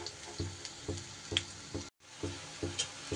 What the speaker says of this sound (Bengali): একই রকমভাবে পরেরগুলো আমি ভেজে নেব